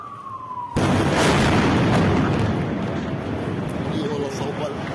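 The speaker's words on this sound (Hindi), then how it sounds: "अल नसीर इलाके में बड़ी एयर स्ट्राइक की है।" An Israeli air strike on a building in the Al Nasir area of Gaza lands with a sudden loud blast after a faint tone, then a long roaring rumble of debris that slowly fades.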